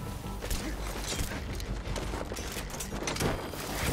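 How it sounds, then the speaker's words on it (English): Rapid, dense bursts of gunfire in the video game Metal Gear Solid V: The Phantom Pain crackle almost without pause, loud and chaotic, with overlapping shots and mechanical clatter throughout. "Where's the gunfire coming from?"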